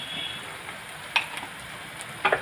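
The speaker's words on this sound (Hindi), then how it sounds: "और इसे अच्छे से फ्राई करेंगे और इसमें साथ ही साथ डाल देंगे हींग।" Green chillies and asafoetida frying in hot oil give a steady, soft sizzle, with a couple of brief sharper crackles or stirring clicks rising out of it.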